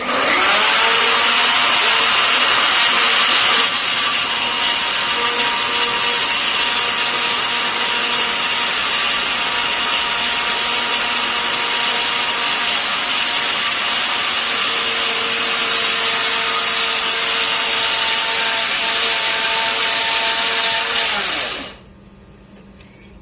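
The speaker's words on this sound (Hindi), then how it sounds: "तो इसे अच्छे से फिर से ग्राइंड करवा लेते हैं।" A kitchen grinder whirs loudly and steadily while grinding soaked millet batter for dhokla, running continuously for about twenty seconds before cutting off and winding down.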